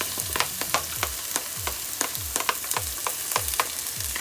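Garlic sizzling in a pan of frying onions for a jerk shrimp pasta, a steady crackle cut by regular scraping strokes from a stirring utensil, close up and with no voices.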